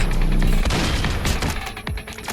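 Gunfire in the Roblox game Dead Rails: dense, loud bursts of shots and booming impacts crowd together in rapid succession, close and harsh, with no voices.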